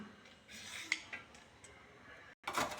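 Carrots being peeled and grated by hand in a home kitchen, heard as soft, intermittent scraping strokes with small clinks of metal, brief and fairly quiet, with no voices.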